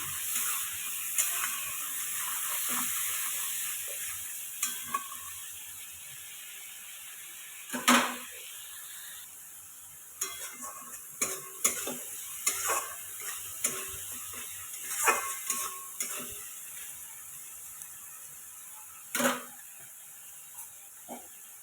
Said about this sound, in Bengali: রসুন পেঁয়াজ টমেটো সেটা ভালো করে এটাকে ভাজা করে নিতে হবে